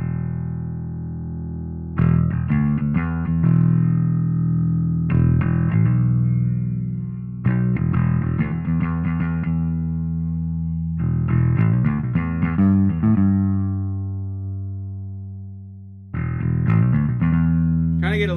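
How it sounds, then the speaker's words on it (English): An electric guitar runs through a Nembrini Audio Blackice Beta Gamma distortion plugin, playing loud, saturated chords and riffs that ring out in bursts with short gaps between them. "I'm going to leave the EQ flat because I just want to play with the distortion."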